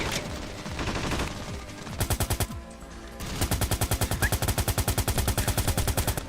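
Rapid automatic gunfire in Ravenfield, loud and close, with a sustained stream of shots at first, a short pause, then a long steady burst of evenly spaced rounds over distant battle noise.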